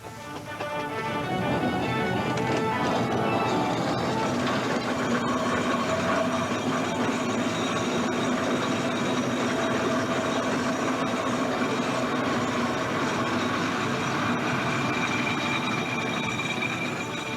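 A showman's steam traction engine at work gives off a continuous loud mechanical rumble and clatter with a hissing, ringing overtone. It stays steady throughout, with no talk.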